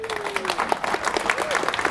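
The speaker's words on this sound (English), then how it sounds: "So big round of applause for Chris, please." A conference audience applauds a presenter, producing a short burst of scattered, fairly close clapping while a voice speaks over it.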